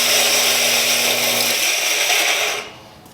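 A Canyon coffee grinder grinds coffee beans down to a fine Turkish powder, a loud, steady close-up whirring roar that runs unbroken for over two seconds before cutting off abruptly.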